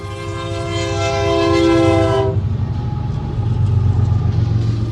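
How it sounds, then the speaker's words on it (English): A passing train sounds a loud, sustained horn for about two seconds, then the heavy rolling rumble of the wagons continues steadily close by, with no talking. "Oh, there's the train."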